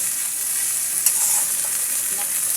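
Pui shak flowers being stirred as they fry in a pan with onion and garlic, a steady close sizzle with soft scraping stirs and a sharp tap partway through.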